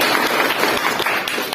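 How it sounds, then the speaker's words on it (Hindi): Brisk applause from an audience for an upline speaker at a Forsage earnings event, a dense, close patter of clapping that carries on evenly. "हम चाहेंगे उनके लिए एक बार जोरदार ताली"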